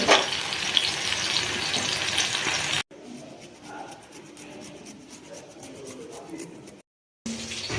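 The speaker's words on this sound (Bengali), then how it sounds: "এটা ভাজা হচ্ছে।" Food fries in a pan in a home kitchen, sizzling loudly for about three seconds before dropping to a softer crackle with scraping, then a brief silence and a return of the louder sizzle.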